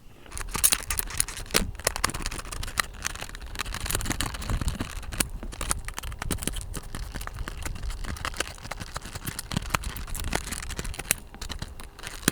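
Scissors snip open the cardboard and plastic packaging of a Bachmann explosives box van model train, with a series of crisp close clicks and cuts mixed with light crinkling and rattling, and no voices.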